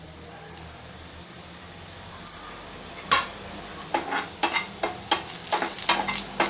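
Crushed whole coriander seeds sautéing in hot oil for a samosa filling, a faint background sizzle broken by a run of sharp crackling pops that grow more frequent toward the end.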